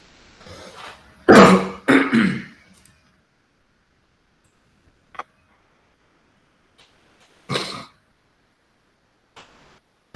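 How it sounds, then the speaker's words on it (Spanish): A person coughs and clears their throat in a quiet room: two loud hacking bursts near the start, then a few softer scattered coughs with silence between. "me agarró justo un ataque de tos"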